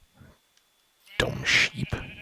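Sheep bleating in the Minecraft video game; one loud, close bleat following a faint earlier sound, with speech around it.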